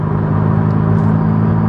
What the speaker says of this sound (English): I wanted to give you guys a point of view of what it sounds like in my car with the windows down